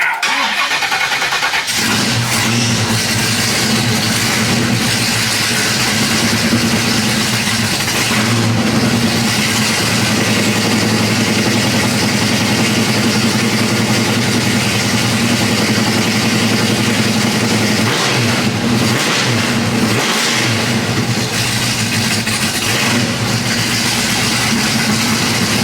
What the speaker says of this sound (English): this thing doesn't have a choke on it, so it's gonna be a minute before she's warm up.